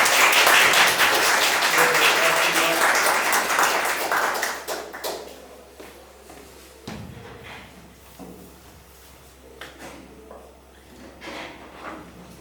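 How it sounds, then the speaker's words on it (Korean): An audience at a political lecture in Gimhae, South Korea, applauds loudly at first, the clapping thinning and fading out after a few seconds, leaving scattered quieter sounds and a few faint claps. "강연을 하러 또 김해까지 와주신 권영국 대표님을 큰 박수로 바로 앞으로 모시겠습니다."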